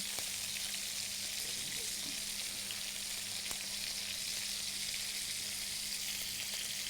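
Peri peri chicken frying in a pan, a dense, steady crackle and sizzle with a faint low hum underneath, close and continuous with no talking.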